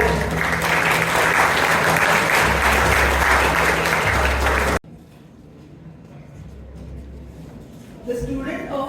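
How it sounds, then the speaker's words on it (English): Audience applause at a ceremony, loud and steady for about five seconds, then cutting off abruptly to a quieter room with faint murmur and a brief return of noise near the end. "Give a big round of applause to CA Gautam Narayana."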